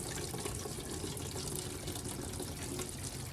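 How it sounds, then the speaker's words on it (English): Washer fluid pours steadily out of the windshield washer reservoir on a 2017-or-later Ford F250 Super Duty with a 6.7 PowerStroke after the pump is pulled, a continuous close gushing trickle with no talk. "So there goes all of our fluid."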